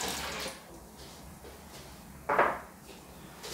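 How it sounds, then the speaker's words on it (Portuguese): Milk and water poured into a blender over corn for a cornbread batter in a home kitchen: a brief muffled pour and a sharper splash of liquid near the end, close and alone. "Vou colocar aqui os líquidos para ajudar no processamento desse milho, tá?"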